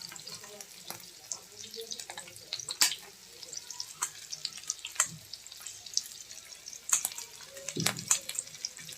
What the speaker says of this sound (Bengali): প্রথমত ডিমটা ভেজে নিচ্ছি